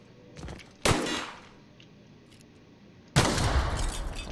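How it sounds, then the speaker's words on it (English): Gunfire in The Outer Worlds video game: a faint shot, then a sharp loud blast followed by another burst of shots later, with quiet gaps between. "I land my shots in this game."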